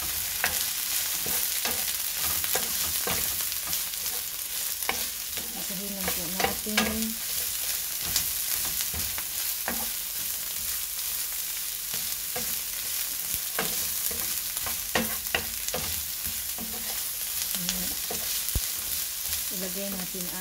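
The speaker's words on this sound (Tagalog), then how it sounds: "gisahin lang po natin" Ingredients for pansit sizzle steadily in a hot pan while a utensil scrapes and stirs them in repeated bursts, with a constant frying hiss underneath.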